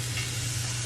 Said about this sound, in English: See, hear the sizzle? It's like cooking ASMR.